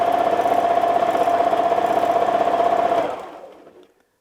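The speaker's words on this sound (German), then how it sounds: "Wir wandern zur Mitte und quilten unsere Zacken." Sewing machine stitching free-motion zigzag quilting lines, its steady fast motor hum and rapid needle chatter running continuously for about three seconds, then winding down and stopping.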